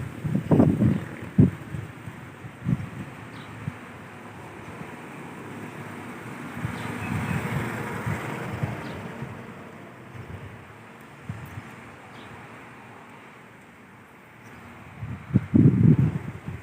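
Wind gusts rumble across an outdoor microphone, swelling loudly at the start and end with a softer, steady rush in between.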